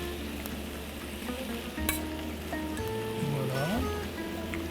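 Potatoes, onions and garlic sweating in a pan give a soft, continuous sizzle, with a few faint clinks and tonal background hums and no clear speech.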